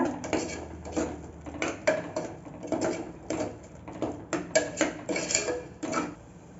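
Mutton masala being stirred in a pot with turmeric and salt, a steady run of clinking, scraping spoon-on-metal taps, close and fairly loud, with no talking.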